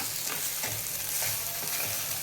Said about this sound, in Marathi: अशा पद्धतीनं सोयावडी तेलामध्ये भाजून घ्यायची आहे